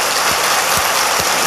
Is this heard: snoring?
no